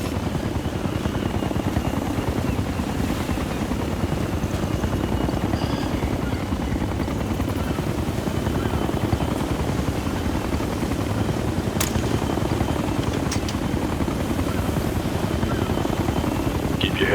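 In the Ghost Recon: Future Soldier video game, a helicopter flies overhead with a steady, loud rotor thump and engine roar that holds throughout, with no voices over it.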